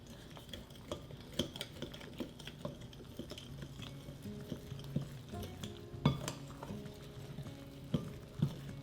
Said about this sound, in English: Mix to combine, then incorporate by hand until rough dough forms